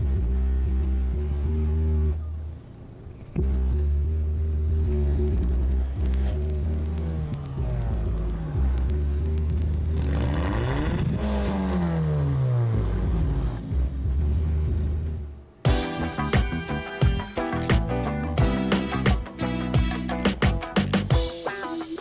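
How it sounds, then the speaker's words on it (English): A car with a straight-piped exhaust and two 12-inch Kicker subwoofers idles and revs with a deep, droning rumble that rises and falls. Near the end, heavy booming bass music pounds out over the engine. "Zach, I did straight piped exhaust, and I put 2 12-inch kicker subwoofers in the back of my car"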